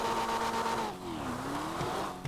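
Porsche 911R fitted with six rocket blast exhaust pipes in GTA 5, its engine note sweeping down and back up with a crackling, tire-squealing edge, loud and close.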